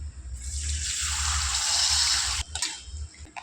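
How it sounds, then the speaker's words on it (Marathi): Water poured into a cooking pot of sandge (dried lentil dumplings) sautéed with turmeric; a steady, loud rushing pour runs for about two seconds, then stops abruptly with a few faint drips and splashes. "याच्यात पाणी ओतायचं"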